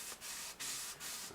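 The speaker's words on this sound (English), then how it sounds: "I'm going to be sanding across the grain" Rough, steady sandpaper scraping across the grain of a glossy guitar neck finish in a few long back-and-forth strokes, close up, with brief pauses between passes and no talking.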